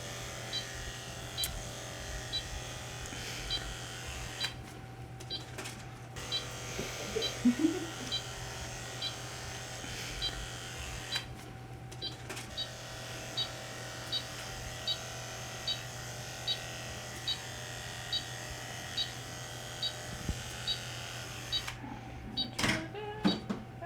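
Electric clippers shave a surgical patient's hair during preparation for an abdominal exploratory procedure, a steady faint buzzing hum with a fine repeating tick, broken by short pauses and small handling bumps.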